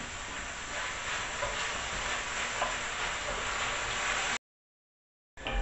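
Vegetables with garlic sizzle steadily in a hot pan for a Creole chicken and chorizo jambalaya, a dense, even frying hiss that runs for about four seconds before cutting out briefly and resuming.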